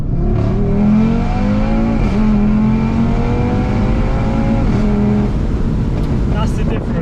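An Audi RS3 facelift tuned to stage 2, making about 540, accelerates hard at full throttle with a loud, continuous engine roar whose pitch climbs through the gears. Brief dips mark the shifts, and someone speaks over it now and then.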